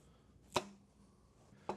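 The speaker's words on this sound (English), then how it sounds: "Now we're going to do a bâtonnet cut." A knife cutting a carrot into bâtonnet sticks on a board, two crisp separate chops about a second apart, close and clean against a quiet room.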